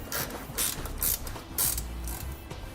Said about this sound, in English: We can now go back and tighten down all of our hardware.